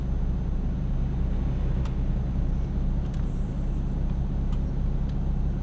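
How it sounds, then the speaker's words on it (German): Heavily loaded truck on a heavy-haul run at night in Euro Truck Simulator 2, its engine laboring uphill: a steady, deep, droning rumble that holds throughout, with a few faint clicks on top. "Oh, der LKW hat aber Schwierigkeiten, jetzt hier hochzukommen"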